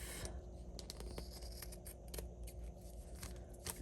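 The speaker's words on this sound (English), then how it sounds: "All right, so I'm just going to trim this off." Scissors trim excess paper off a vintage storybook journal page with quick, faint snipping clicks repeated in a loose rhythm, close by in a quiet room.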